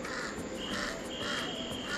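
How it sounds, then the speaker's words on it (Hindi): A crow caws repeatedly from a pole nearby, harsh calls recurring in a steady rhythm over a constant outdoor hiss with faint insect-like buzzing in the background. "ठीक सामने वाले एक खंबे पे देखिए, वहाँ पर कौवा मस्त करके का कर रहा है।"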